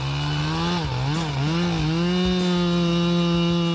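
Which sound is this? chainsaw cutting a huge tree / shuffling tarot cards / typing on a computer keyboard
chainsaw cutting a huge tree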